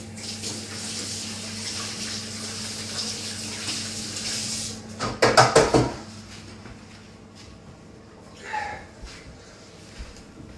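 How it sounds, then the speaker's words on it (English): Hands are washed under a running kitchen tap: a steady broadband water rush for about five seconds, then a brief louder splashing burst as the hands move under the stream, followed by quieter clatter and a faint knock. "Right, wash my hands again."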